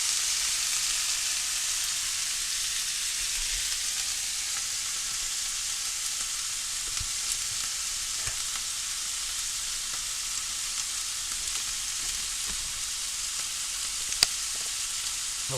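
Steak and scallops sizzle steadily in a hot pan, a continuous close hiss of frying with faint clinks and scrapes of stirring scattered throughout and no talking.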